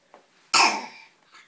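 A single harsh, wet cough from a young child, loud and close, with soft breaths just before and after.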